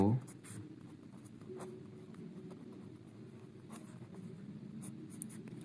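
Steady scratching of writing runs through a Class 9 maths lesson on real numbers, continuous and close, beneath someone speaking Hindi.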